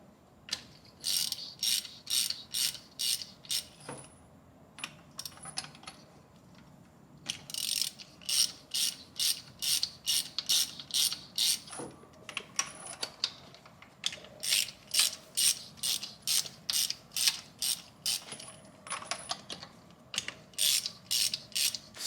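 Rapid ratchet clicking in repeated bursts as valve cover bolts come off a BMW E30 engine, with short pauses between runs, close and clear with no talking.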